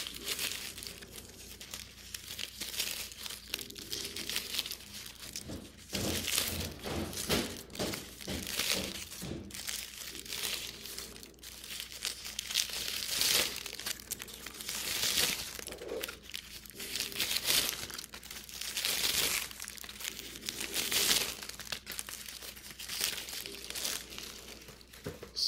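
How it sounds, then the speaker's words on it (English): Package being unwrapped, with continuous crinkling and rustling of wrapping material, occasional soft thunks and tearing sounds, close and fairly quiet, no talking. "We start the unwrapping."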